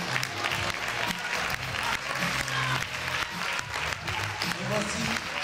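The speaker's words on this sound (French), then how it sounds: "je vous demande d'avancer sous les applaudissements du public" A crowd at a pageant claps for the queen and her runner-up as they step forward, a dense steady wash of hands, with a presenter talking over it.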